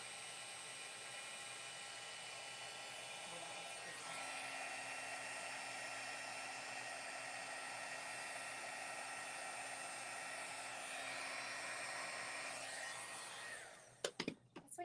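Heat tool melting embossing powder on a card, blowing as a steady airy whirr with a high whine for about fourteen seconds, then cutting off, followed by a few soft clicks.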